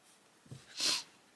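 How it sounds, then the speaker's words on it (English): A brief nasal sniff, close and fairly quiet, preceded by a soft low breath. "Oh, excuse me, sniffing."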